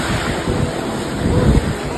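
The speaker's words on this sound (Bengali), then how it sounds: "দেখো দেখো জলটা কিরকম আসছে" Sea waves roll in on a beach, a steady, loud wash of surf with wind buffeting the microphone and a slight swell building toward the end.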